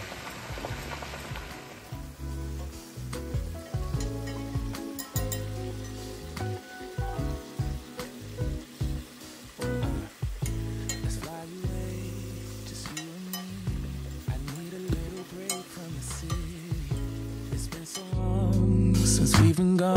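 A New York strip steak sizzles in a pan, giving a continuous crackling fry with scattered pops and knocks that grows louder toward the end.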